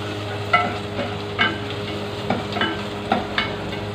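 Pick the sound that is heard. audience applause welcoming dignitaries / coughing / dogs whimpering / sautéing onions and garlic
sautéing onions and garlic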